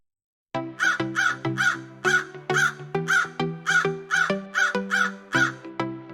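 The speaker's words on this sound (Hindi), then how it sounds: "माना कि कौवे बातें करने के शौकीन होते हैं, लेकिन इतनी तेज क्यों?" Crows caw loudly and close by, a steady series of harsh calls in quick succession from more than one bird.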